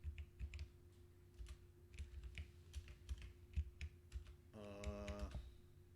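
Code being typed on a computer keyboard: soft, close keystrokes in an irregular run over a faint steady hum, with a short buzzy tone near the end.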